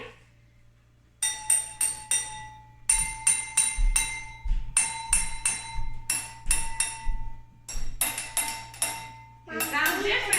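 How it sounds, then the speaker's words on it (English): A spoon lightly taps a row of glasses holding different amounts of water, ringing out in quick clustered runs of bright, pitched clinks with short pauses between groups, close and clear over a low steady hum. "We're going to hit it with a spoon very lightly and hear the different sound waves."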